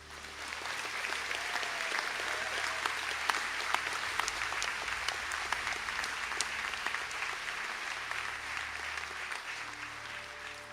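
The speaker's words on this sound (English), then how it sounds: "to please stand to receive a round of applause" A ceremony audience applauds graduates of the Master of Arts in Professional Leadership as they stand at the Sligo and St Angela's conferring ceremony, with sustained, even clapping from a large crowd throughout.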